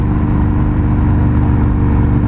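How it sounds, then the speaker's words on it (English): Loud, close exhaust of a 2019 Indian FTR 1200 S motorcycle rumbling steadily with a deep, throbbing drone, holding an even pitch throughout with no voices. "Even as good as this exhaust sounds, I don't know if I could tolerate it."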